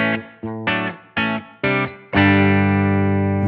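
An electric guitar runs through a modelled British amp on a 1964 setting with a darker, distorted tone: five short, punchy chord stabs in an even rhythm, then one loud sustained chord ringing out, with no talking.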